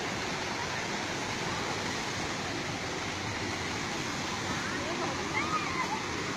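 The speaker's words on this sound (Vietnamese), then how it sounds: "Đây là các bạn đang vượt suối." Steady rushing of a mountain stream flowing as people wade across it, a broad continuous wash of water with faint splashes, voices faintly present under the flow.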